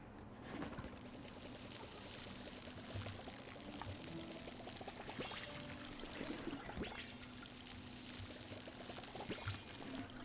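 Water pouring steadily onto trees on a homestead in a video game, a continuous splashing trickle with small bubbling bursts, moderately quiet and without voices.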